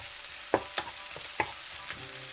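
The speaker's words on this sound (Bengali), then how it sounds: "তো আমি একটু নাড়িয়ে দিচ্ছি এখন।" Onion and garlic sizzle steadily in a pan while a utensil scrapes and knocks against it a few times, stirring.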